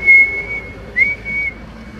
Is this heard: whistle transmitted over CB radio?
yes